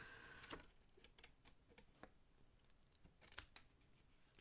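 Scissors snip paper for a craft project in small, careful fussy cuts, a scattered series of quiet crisp clicks and snips close by with no talking.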